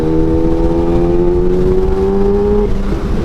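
Kawasaki Ninja H2 motorcycle engine droning steadily at low revs with a rising pitch, then a quick-shifter gear change near the end, loud and close, with no talk.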